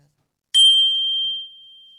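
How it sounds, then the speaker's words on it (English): The smallest handbell is struck once, giving a bright, high, close ring that sustains clearly and then slowly fades, heard alone. "Here's the littlest bell that we have."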